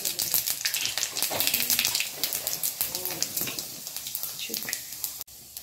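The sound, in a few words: green chillies, bay leaves and five-spice frying in mustard oil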